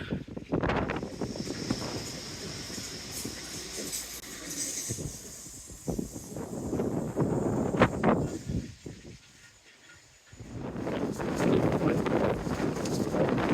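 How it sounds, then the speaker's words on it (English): Wind gusts roar across the microphone in heavy, buffeting surges, dropping briefly to a lull before blowing hard again. "It's windy."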